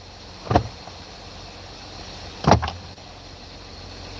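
Inside a car, a power window motor runs in two short whirring bursts about two seconds apart, close and fairly loud over a quiet cabin hum.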